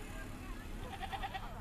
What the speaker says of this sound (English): Mohammed Abdi says he came here to buy a goat